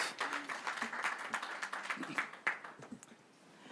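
Scattered hand clapping from a board meeting audience honoring parents, a faint patter of claps with a few voices mixed in, fading toward the end.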